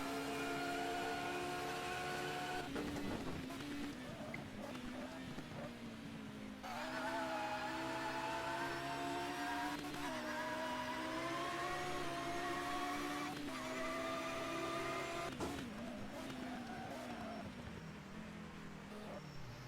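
Onboard engine of a 1996 BTCC touring car racing at Silverstone in a video game, a loud continuous whine that climbs through the revs, drops sharply at gear changes and repeats the cycle, with no talk over it.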